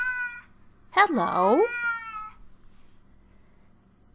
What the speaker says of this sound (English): And then she began to meow and to bellow.